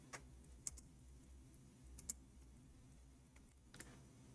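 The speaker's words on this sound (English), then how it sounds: "we are typing in English again" Keys on a computer keyboard clicking in sparse, light taps with gaps between them, faint and close against quiet room noise.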